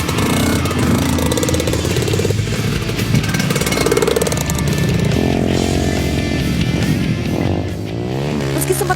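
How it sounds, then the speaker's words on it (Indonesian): A trail motorcycle engine roars continuously nearby on Siompu Island, Indonesia, revving up and down with a rough, buzzy drone, loud throughout with no talking. "Deru suara motor memecah keheningan."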